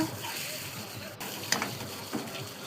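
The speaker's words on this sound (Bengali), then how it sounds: "খুন্তি দিয়ে ভালো করে কষিয়ে নিচ্ছি" Fish roe stir-fried in oil with a spatula gives a soft, steady sizzle, broken by a few light scrapes and taps of the spatula against the pan.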